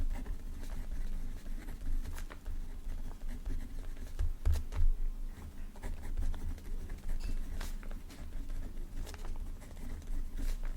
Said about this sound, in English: Just gonna write the names.